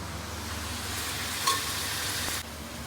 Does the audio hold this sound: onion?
yes